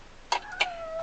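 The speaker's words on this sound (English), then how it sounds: "You might just be able to hear my cat meowing." A house cat meows twice in quick succession, short rising calls followed by a longer drawn-out tone. It sounds moderately close in a quiet room.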